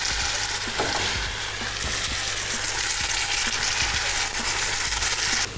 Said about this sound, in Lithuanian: Sviestui pilnai ištirpus, dedame obuolius.